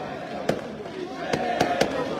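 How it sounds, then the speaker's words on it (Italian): Fireworks burst at a street celebration in Naples after a Juventus–Napoli football match, with four sharp cracks, one alone and three close together, over steady crowd noise. "Fuochi d'artificio!"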